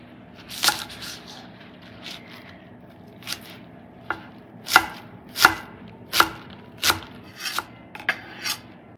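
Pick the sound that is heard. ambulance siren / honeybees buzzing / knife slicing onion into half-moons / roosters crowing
knife slicing onion into half-moons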